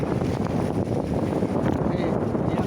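Strong wind at sea near Ando Island buffets the microphone in a steady, roaring broadband rush with low rumbling, constant and loud throughout with no breaks.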